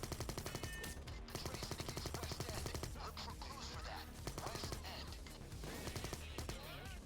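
Rapid bursts of submachine-gun fire from a video game crackle almost continuously, dense and loud, with dull impacts and game effects layered in and no voices.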